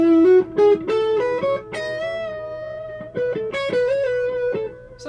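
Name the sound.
electric guitar played through a delay effect pedal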